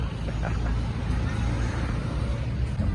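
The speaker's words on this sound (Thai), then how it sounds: "ขอไปนะครับถ้าเสียงรถดังไปนะครับ เพราะว่าอยู่ติดถนนเลย" Steady road traffic rumble from cars and other vehicles on the street right beside a motorcycle workshop where Honda Click 160 ABS brake pads are being changed, a continuous loud low drone with no clear speech.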